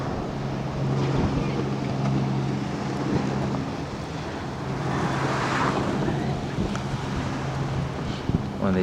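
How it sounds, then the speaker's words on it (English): A jet boat runs on the water in Australia, its engine a continuous roaring drone mixed with wind buffeting the microphone. "One of these jet boats."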